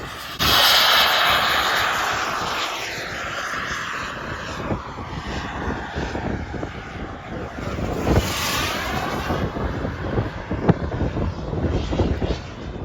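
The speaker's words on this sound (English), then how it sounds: "Something a little different was Andy Johnson's Concorde model, powered by a single REM 70 gas start turbine." A large model Concorde jet powered by a single REM 70 gas turbine flies at an airshow. Its loud, rushing turbine roar sweeps and shifts in pitch as it passes, with wind buffeting the microphone.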